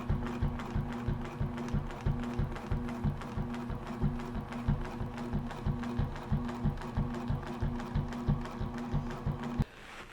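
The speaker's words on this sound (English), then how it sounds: "take one more stitch to make sure I'm nice and square in my ditch, and then I'm going to carry on stitching around that block" Domestic sewing machine stitching in the ditch around a log cabin quilt block, running steadily with a fast, even mechanical rhythm and a steady hum, close and alone, stopping just before the end.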